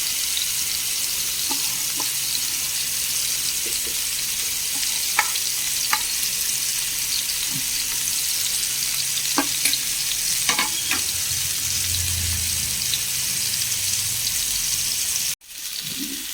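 Masala-coated fish fries in a pan with a steady, dense sizzle that holds at an even level throughout. A few faint clicks and light clatters sound partway through, and a sharp knock comes near the end.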